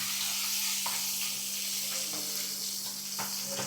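Tomato curry with ginger and turmeric sizzling steadily in a pan while being stirred, a constant close hiss broken by a few soft scraping strokes of the spoon.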